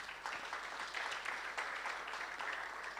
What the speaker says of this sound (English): Big claps for the panel